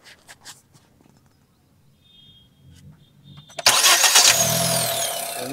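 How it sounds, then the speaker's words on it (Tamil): Engine of a 2025 Honda Amaze is cranked and catches abruptly after a few quiet taps and clicks, then runs at a steady close idle with a bright, loud hum. "இன்ஜினோட நாய்ஸும் கேளுங்க எப்படி இருக்குன்னு."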